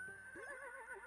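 A horse whinnies in the farming game Fields of Mistria, one wavering neigh that rises and shakes for under a second, fairly faint, over a steady tonal background.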